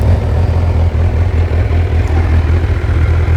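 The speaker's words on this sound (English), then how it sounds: "let's start her up so you can hear how she sounds" A 2020 Kawasaki Ninja 1000SX motorcycle with stock exhaust idles in neutral close by, a deep low rumble holding an even level throughout with no revs.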